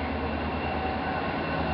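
A commuter train rumbling steadily with a low droning hum and faint rail noise, continuous and moderately close, no voices heard.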